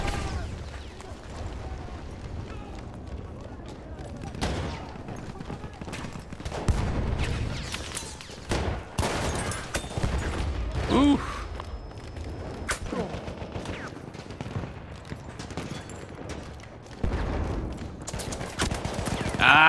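Shotgun blasts and gunfire from the Battlefield 1 video game, with sharp, loud reports scattered irregularly through the fight amid a dense backdrop of battle noise.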